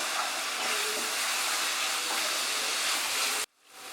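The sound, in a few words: spice masala sizzling while being fried for chicken korma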